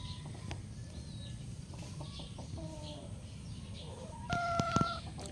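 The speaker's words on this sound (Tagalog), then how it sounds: "Ito po yung ating matandang inahin na itim." An old black hen clucks softly in a backyard, a few brief calls scattered over steady low outdoor noise, with a louder cluck near the end.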